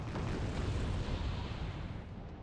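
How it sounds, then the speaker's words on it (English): Naval cannon barrage from the Jiangu's guns in the war strategy game Wargame: Red Dragon: a loud, dense, continuous roll of booming explosions with no clear gaps and no talk. "It's amazing how powerful a naval barrage can be in this game"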